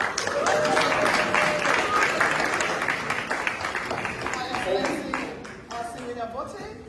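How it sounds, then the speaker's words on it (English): Applause from an audience at a leadership award ceremony for women leaders, a dense wash of clapping that swells at the start and thins out toward the end, with a voice speaking over it. "Let's give them a great round of applause."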